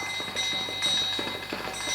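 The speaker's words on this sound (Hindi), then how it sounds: "ये उन्हीं की रत्ती घंटियां हैं" Small ringing bells from a chariot in a Hindi audio drama, a steady high metallic jingle that keeps going across the whole stretch over a soft rhythmic clatter.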